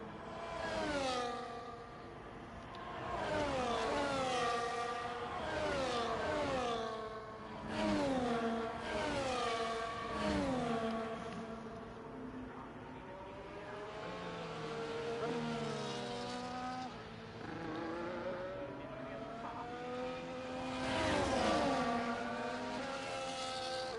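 Race cars in a racing video game at Zandvoort roar down the straight, engines revving and rising through gears in overlapping passes, with a commentator talking throughout.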